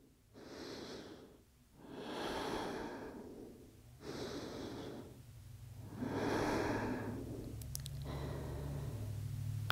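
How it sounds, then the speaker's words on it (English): Slow, deep breaths during a yoga pose, heard close and quiet as several even cycles of long inhales and extended exhales with soft pauses between them. "Giving yourself 3 rounds of breath here."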